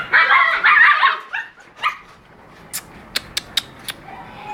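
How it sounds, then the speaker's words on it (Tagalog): A puppy barks in several loud, close bursts at the start, then gives a few short, sharp yips after a pause, with no talking over the calls. "Ayun na lang yung tuta niya."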